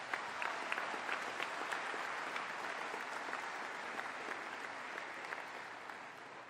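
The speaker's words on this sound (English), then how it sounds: "Give yourselves a round of applause." Graduates at a Queen's Royal College graduation ceremony give themselves a steady round of applause, a continuous even clatter of many hands clapping in a hall.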